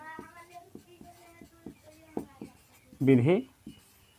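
A pen writes out a Class 10 maths solution by hand, working 867 and 255 with Euclid's division method, giving a regular series of short scratchy strokes under a speaking voice.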